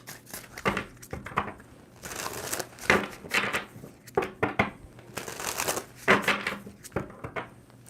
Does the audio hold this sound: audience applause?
no